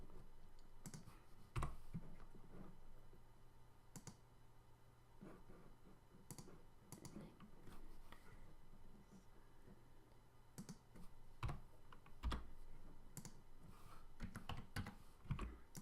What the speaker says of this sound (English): I'm changing commands using the shortcuts on my keyboard instead of going up to the toolbars